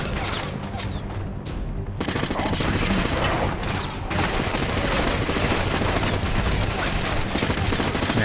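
Sustained gunfire in the video game Killzone Mercenary, with dense rapid bursts and booming shots continuing loudly throughout, heavy and nearly unbroken from start to finish.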